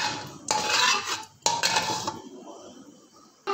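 Spices are tempered in hot oil in a pan for an Indian tadka, with sharp bursts of sizzling that fade away, followed by a final crackle, mixed with light clatter of the pan.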